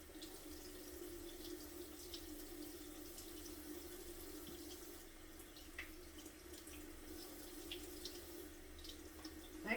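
Tap water running steadily into a sink while produce is rinsed under it, a constant close hiss and splash with faint small knocks and drips, no talk.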